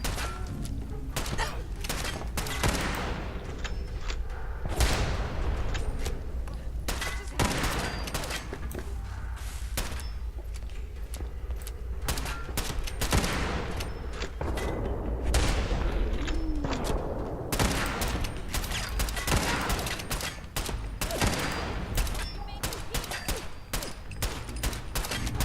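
Dense gunfire from the video game Fallout 4 runs throughout, with rapid overlapping shots and bursts, heavy thuds and booms, loud and close, under occasional talk.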